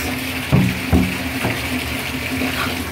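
Water spraying from a handheld shower head at pressure, a steady close hiss broken by two dull knocks early on.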